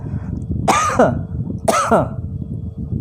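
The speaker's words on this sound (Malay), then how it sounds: "Aku batuk, merah terus muka." Two loud, close coughs about a second apart, each a harsh burst trailing off, over a low background murmur.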